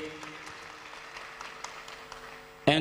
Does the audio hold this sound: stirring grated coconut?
no